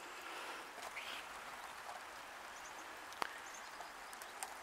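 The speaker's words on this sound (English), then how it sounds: "it's raining." Rain falls steadily outside an open back door, a soft, even hiss with a few faint drips and taps, heard alone.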